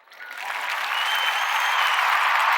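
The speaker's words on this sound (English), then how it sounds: "We can hear the applause" Audience applause rising quickly from a thin start into a steady, full wash of clapping that holds loud and dense to the end, with no voices over it.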